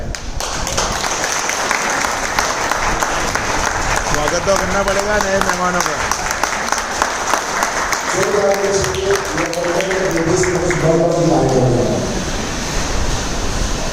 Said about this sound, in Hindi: जो 10 दिन हुए हैं, 10-15 दिन, उनके लिए तालियां हो जाए।